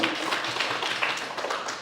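A church congregation applauds warmly during a sermon, a steady wash of many hands clapping at moderate distance, fairly soft and continuous with no talk over it.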